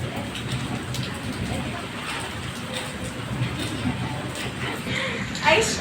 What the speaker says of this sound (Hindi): ये क्या हो रहा है, बारिश हो रही है, बारिश